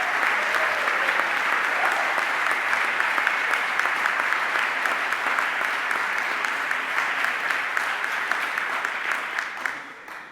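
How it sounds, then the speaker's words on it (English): A graduation-ceremony audience applauds its speakers with sustained, dense clapping that holds steady for about ten seconds before tapering at the end. "Let's give them all a round of applause."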